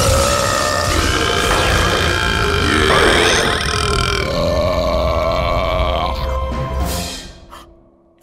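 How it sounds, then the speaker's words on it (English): A long, loud cartoon belch rumbles on for several seconds, close and dominant, with a gurgling, grunting texture before it trails off and ends abruptly. "I call it the Blinding Beauty Belch."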